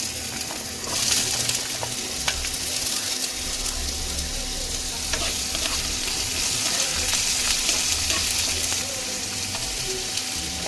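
Potatoes dropped into hot oil with dried red chilli sizzle and fry steadily, a close, continuous crackle with occasional stirring clinks.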